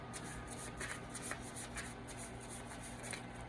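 Tarot cards being shuffled by hand, a continuous soft rapid riffling and rubbing with rhythmic flutters, close and steady throughout with no talking.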